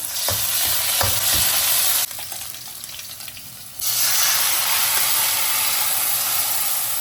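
Ginger and garlic fry in oil in a home kitchen, a loud steady sizzle and hiss with a few stirring clicks, briefly quieter in the middle before the sizzle surges back, with no talk.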